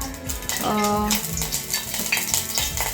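Green chilli and ginger paste sautéing in ghee for a fasting dish, a steady close sizzle with spoon scraping and clinks against the pan throughout.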